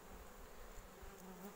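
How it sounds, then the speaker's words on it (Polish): A dense, steady buzzing of many agitated honey bees close up at an open hive, a continuous humming drone without pauses. "widzicie, to się już denerwują."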